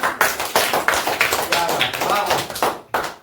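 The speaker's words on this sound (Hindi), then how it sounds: "बहुत बढ़िया, प्लीज क्लैप फॉर रिया धान।" A class claps for a student, a burst of scattered, fairly close hand claps running through the whole stretch with voices over them.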